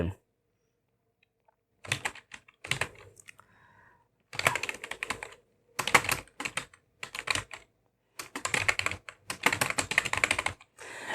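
Fingers tap out text on a computer keyboard in several close bursts of quick keystrokes, separated by short silent pauses.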